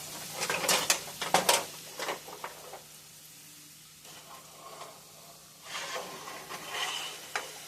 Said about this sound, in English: We're gonna sweat these mushrooms and onions down